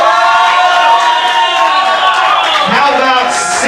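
A live crowd at a metal show cheers and shouts continuously, a loud dense roar throughout, with a voice speaking over it.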